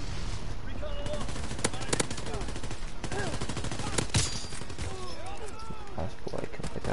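Rapid gunfire and shotgun blasts from a World War II video game crackle continuously at mid-distance, bursts of shots layered over a busy in-game din while a player talks over them.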